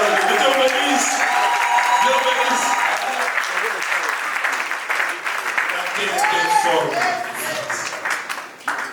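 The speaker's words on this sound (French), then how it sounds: "On acclame encore, on acclame pour la" A church congregation breaks into sustained, dense applause at a teaching service on creation, with excited voices and cheers mixed into the clapping throughout.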